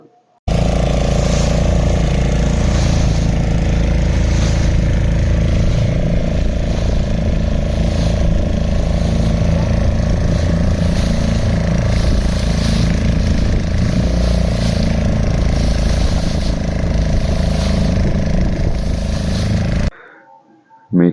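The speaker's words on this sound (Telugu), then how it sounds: "అంటే ఇంజన్ సౌండ్తో సహా" A steady, loud boat engine drone at sea runs without a break for about twenty seconds, low and rumbling with a constant hum, then cuts off abruptly near the end.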